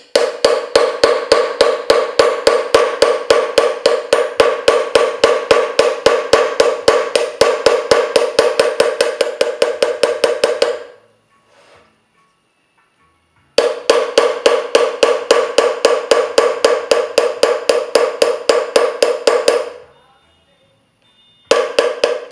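A heavy mallet strikes a metal chasing tool over and over in a fast, even rhythm of sharp ringing taps, loud and close, stopping twice for short pauses before resuming.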